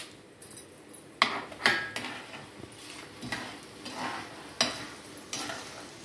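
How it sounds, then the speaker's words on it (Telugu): Dried red chilies fry in hot tempering oil for drumstick pickle, with a soft sizzle under repeated sharp clinks and scrapes of a metal spoon stirring in the pan. "మిరపకాయలు వేసేస్తున్నాం."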